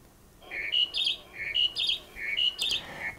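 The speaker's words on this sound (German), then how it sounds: "Einen Vogel in der Balzzeit." A bird in mating season sings a rapid, varied series of high chirping phrases, repeated in quick bursts against a faint background hiss.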